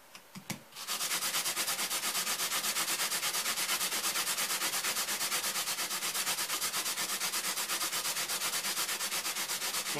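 A meat grinder knife is sanded with a small scrap of sandpaper, making a rapid, steady back-and-forth rasping that stays close and loud after a brief start, with no talking.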